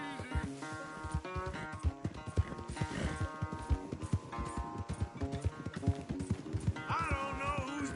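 Horses gallop hard in a race in the Western video game Red Dead Redemption 2, with rapid clip-clop hoofbeats, snorts and a whinny over a swelling orchestral score throughout.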